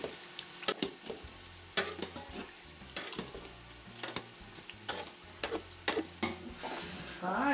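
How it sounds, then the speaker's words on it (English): Cooked fresh tomatoes being mashed with a wooden spoon in a pot for Sunday sauce, repeated soft squelching strokes and spoon knocks at an irregular rhythm, close and fairly quiet. "We're just mashing the tomatoes"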